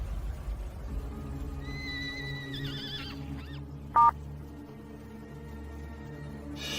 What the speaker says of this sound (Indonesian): Kalau bisa keluarkan kuda.